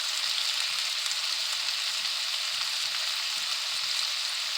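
Beef and onions browning in a pot give a steady, dense sizzle and crackle of frying, close and even in level throughout, with no voices over it.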